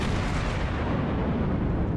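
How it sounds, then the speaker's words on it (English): Heavy 14-inch or 16-inch battleship main guns fire in a naval video game, a dense, booming roar that fills the whole span at steady loudness, with rumbling low end and no talk. "I think it's 14-inch guns or 16-inch guns on this thing."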